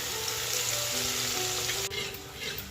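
Chopped green garlic hits hot oil in a tempering of cumin, asafoetida and curry leaves, giving a loud, steady close-up sizzle that shifts in tone about two-thirds through.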